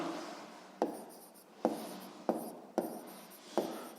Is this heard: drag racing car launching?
no